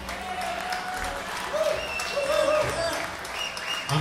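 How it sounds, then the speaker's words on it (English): Moderate crowd applause for the organiser's wife and kids at an event, steady clapping with voices and brief tonal sounds mixed in underneath. "Everyone give a big round of applause to my wife and all the kids and everyone"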